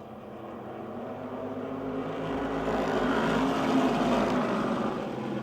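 Modified race cars run a heat race at Motordrome Speedway, their engines merging into a broad, steady roar that swells and then settles, heard from trackside at moderate distance.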